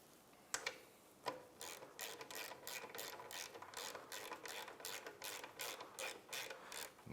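Ratchet wrench tightening the banjo bolt on the rear brake of a Honda CRF450R dirt bike: two sharp metallic knocks, then a long run of fast, close, crisp pawl clicks in bursts, with no voices.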